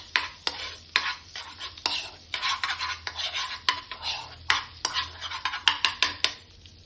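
Mushrooms are stirred with melted butter in a pan, giving a series of sharp utensil scrapes and clinks against the pan in an irregular rhythm, close and fairly loud with no talk.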